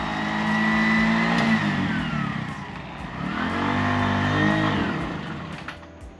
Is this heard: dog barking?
no